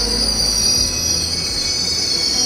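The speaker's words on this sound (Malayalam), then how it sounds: "അങ്ങനെ കാത്തിരിപ്പിനൊടുവിൽ നമ്മുടെ ട്രെയിൻ എത്തി" A passenger train pulls into a station platform near Kannur, its wheels squealing loudly and steadily over a low rumble of the carriages, with no talk.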